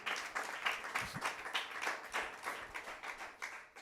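Church congregation clapping hands in rhythm, a steady series of fairly faint, evenly spaced claps from a group, heard alone without speech.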